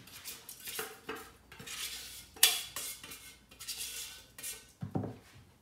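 An eggshell and lemon mixture is poured out of a mixing bowl, giving intermittent clinks, scrapes and sloshes as the bowl is tipped and knocked, fairly quiet and close with no speech.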